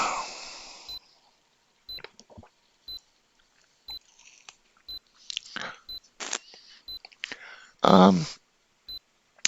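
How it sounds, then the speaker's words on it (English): A tournament countdown timer emits short, sharp electronic beeps exactly once per second, evenly spaced and close, while a person talks quietly in the gaps between beeps. "And we'll hear it go off 60 times, that beep"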